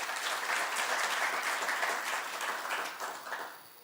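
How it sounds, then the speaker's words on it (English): An audience at a Namibian budget dialogue breakfast gives the panelists a round of applause: dense, steady clapping from many hands that fades slightly at the end, with no voices over it. "Another round of applause to our panelists, please."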